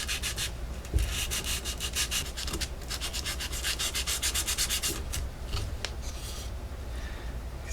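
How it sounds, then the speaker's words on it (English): Sandpaper rubs back and forth on a plastic model car kit in quick, even strokes, close and fairly quiet, with a short pause partway through and no talking. "Let's get back into sanding."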